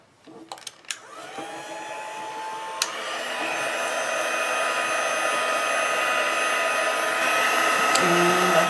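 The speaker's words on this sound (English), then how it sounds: "I've got my heat gun right here. I'm going to start heating it." A heat gun melting white embossing powder starts up with a few clicks and a rising whine, then settles into a loud, steady blowing hum that keeps building slightly to the end.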